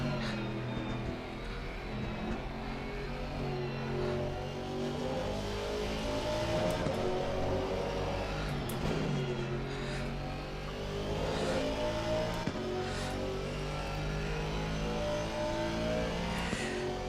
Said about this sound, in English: Ooh, listen to that throaty exhaust.